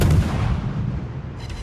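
Naval artillery in a warship video game: a heavy, continuous boom and rumble of battleship gunfire lasting throughout, loud and dense with no clear gaps or voices.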